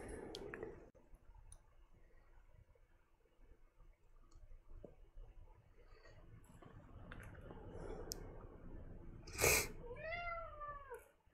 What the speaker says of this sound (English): Oh, my cat wants to get out of the room.